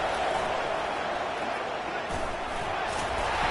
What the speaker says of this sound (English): This offense trying to quieten the crowd on first and goal, and they are not cooperating.